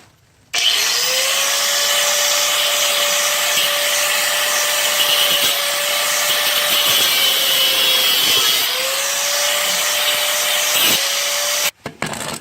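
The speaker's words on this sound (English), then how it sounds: "I'm gonna use the grinder the opposite direction." An angle grinder cuts through a sway bar end link on a 2003 Dodge Neon, a loud continuous whine with a steady high tone that holds for about eleven seconds, dips briefly once, then stops abruptly.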